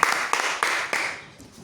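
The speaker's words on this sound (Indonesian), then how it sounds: "Oke, tepuk tangan." Students in a classroom clap their hands in a few short bursts, with sharp broadband strikes at intervals that fade toward the end, fairly close and not loud.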